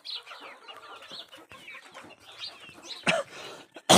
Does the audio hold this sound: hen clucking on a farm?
yes